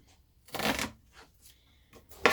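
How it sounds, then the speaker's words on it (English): A knife slices through an onion in a few quiet, separate cuts, each a short crisp scrape with pauses between them. "so we're going to cut some of this onion"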